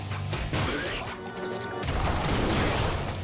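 Rapid gunfire in the video game ScourgeBringer, with a dense fusillade of loud shots and crashing impacts that runs almost continuously, mixed with game sound.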